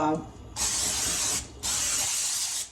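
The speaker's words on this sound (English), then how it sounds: "We wanted to spray the pan with 4 squirts of the" Two sprays of olive oil from a pump bottle onto a pan, each a sharp hiss lasting about a second, close by with a short pause between them.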